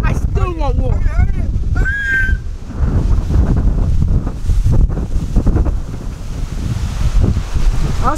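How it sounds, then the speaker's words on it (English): Strong outdoor wind buffets the microphone in a loud, continuous rumble, while people shout and talk over it and a few short whistle-like tones sound early on. "It's so windy out here"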